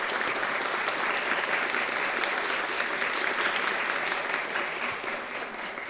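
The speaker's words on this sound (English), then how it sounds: "So a round of applause for her." A crowd at a Día de la Charra event at the National Cowgirl Museum breaks into a loud, dense round of applause that holds steady, then tapers slightly toward the end.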